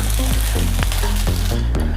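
Flattened rice upma sizzles in a pan as it is stirred, a dense steady frying hiss with periodic scraping strokes of the spoon, close and loud, no voices.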